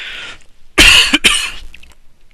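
Sharp bursts of human coughing, two or three harsh hacks close together, loud and close, following a quieter stretch of breathing and shifting, with no speech.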